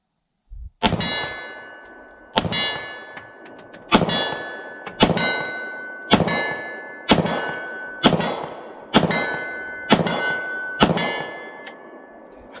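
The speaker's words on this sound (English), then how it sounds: "try his Glock 20 at that 25-yard plate, see what he can do" Ten shots from a Glock 20 Gen 5 10mm ring off a steel plate at 25 yards outdoors, each a sharp metallic clang with a ringing decay, fired at a slow, steady pace of roughly one per second.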